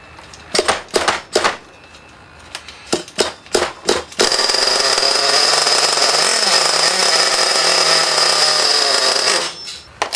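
A nitro engine on a 1/8 scale Basher SaberTooth RC truggy is pull-started: several short rasping pulls of the starter cord, then the engine catches and runs with a loud, steady high-pitched buzz for about five seconds before cutting out.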